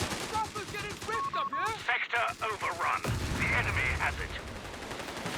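Machine gun fire from a Company of Heroes 3 strategy match sounds as rapid, steady bursts kept up through the whole stretch. A voice talks over the top of the gunfire throughout.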